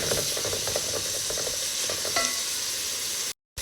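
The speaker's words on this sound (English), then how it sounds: "we keep on mixing it together so every little piece of ground beef gets seared" Ground beef searing in a pan over high heat while being stirred: a dense, close sizzle with scraping utensil strokes throughout, cutting off abruptly at the end.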